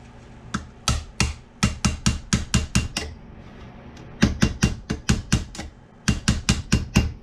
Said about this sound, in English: And we'll hammer down on it